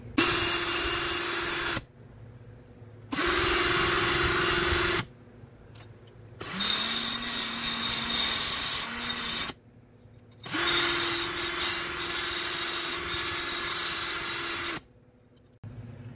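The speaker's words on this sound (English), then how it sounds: "The alternative that my husband likes to do is to use this wheel to grind it down." A grinding wheel on a power tool grinds down a metal jaw hardware piece in several bursts of steady whining, rasping noise, each lasting a few seconds and separated by short pauses as the tool spins down.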